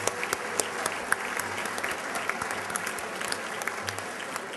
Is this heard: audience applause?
yes